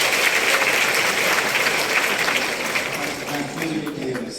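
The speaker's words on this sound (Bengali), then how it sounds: "একটু জোরে করতালি দিয়ে ঘুমটা ভেঙে যাবে" An audience at a company program in the Sheraton hotel in Dhaka gives a sustained round of applause. The dense, loud clapping fills the room and tapers slightly toward the end.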